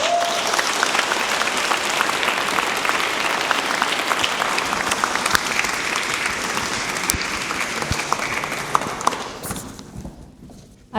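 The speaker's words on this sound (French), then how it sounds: "Je vous demande d'applaudir chaleureusement Tristan Guarinos." Warm, sustained applause from an audience at a mock trial of bar presidents, dense clapping rolling steadily for several seconds before thinning out and fading near the end.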